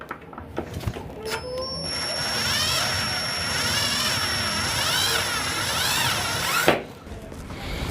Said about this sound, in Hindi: इसने इस स्क्रू को भी खोल दिया है।